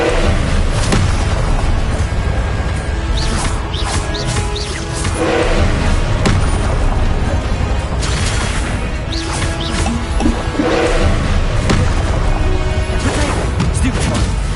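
Confringo blasting spells exploding in the video game Hogwarts Legacy: loud, repeated booms and crashes in a dense, continuous battle soundscape, with a voice talking over the action.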